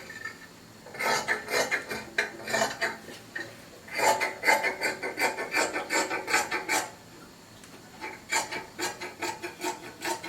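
Scissors cutting through dress fabric, close rhythmic crisp snips in bursts with short pauses between runs, quiet and without talk.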